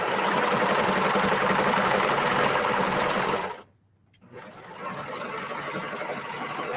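A serger sewing machine runs loud and steady while stitching sweatshirt fabric, breaks off abruptly for about half a second, then whirs back up and keeps going.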